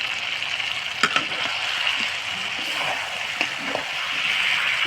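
Steady frying and sizzling in a pan as pre-fried potatoes go into a chicken kosha with ginger, garlic and a little water, with a few sharp clinks of stirring; no voices.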